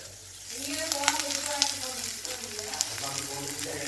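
Grated coconut and curry leaves sauté in a pan, a steady close sizzle that swells after a quieter start, with occasional crackles and spoon scrapes while a voice talks over it.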